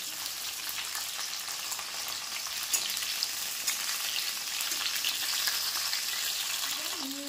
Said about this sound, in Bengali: এই যে জাস্ট পাপড়িগুলো নিয়েছি এখানে, নিয়ে একটুখানি একটু ফ্রাই করে নেবো